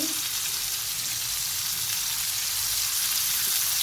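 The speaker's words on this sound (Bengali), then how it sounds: "গোটা গোটা আদা রসুন সবই দিয়ে দিলাম এটা হালকা ভেজে নিয়ে" Whole ginger and garlic frying lightly in a pan for a chicken malai kofta paste give a steady, close sizzle of broad hiss, constant throughout with no voices.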